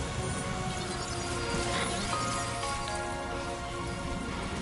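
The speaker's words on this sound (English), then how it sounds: "Rainy." Steady rain pours down in Death Stranding 2: On the Beach, a dense continuous hiss of drops on surfaces holding an even level throughout with no voices over it.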